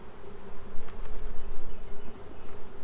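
Honey bees hum and buzz close around an opened hive frame during a winter inspection, a dense, fluctuating drone with individual bees passing near.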